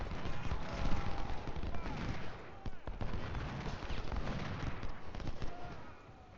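Rolling musket and artillery fire from a Civil War battle in Ultimate General: Civil War, at Manassas Depot, a steady dense crackle of overlapping shots with occasional sharper cracks, with someone talking over it.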